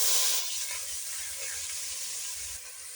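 Fish, garlic, onion and green chillies fry together in a pot, giving a soft, continuous sizzling hiss that is strongest at the start and then settles into a steady low frying noise, with no voices.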